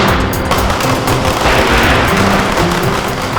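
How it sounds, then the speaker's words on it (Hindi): Firecrackers go off in a dense, loud, continuous crackle of rapid pops and bangs, close by and without pause, with no voices heard over them. "अनन्या आओ ना, पटाखे जलाते हैं।"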